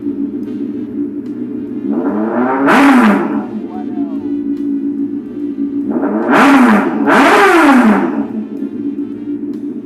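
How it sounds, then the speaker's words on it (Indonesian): A Honda CBR600 motorcycle engine idles, then is revved hard in three loud bursts, rising to a high snarl and dropping back to a rumbling idle between them. "suara dari CBR 600"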